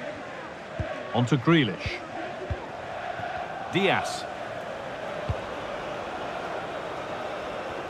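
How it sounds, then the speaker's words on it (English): Stadium crowd murmur at Anfield during an FC 24 Liverpool versus Man City match, a steady low roar running underneath a commentator's voice and a few brief sharp whistles. "the crowd noise says it all"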